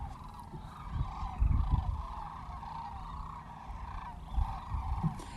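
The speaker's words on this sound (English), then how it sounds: "big roost of sandhill cranes like this before? It's pretty spectacular. When we rolled up, it was very noisy," A distant chorus of many sandhill cranes calls continuously at a roost, rolling and overlapping, with no talking.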